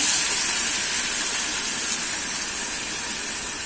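Ginger-garlic paste and curry leaves sauté in a hot pan with a steady, loud hiss that runs unbroken from start to finish, with no voices.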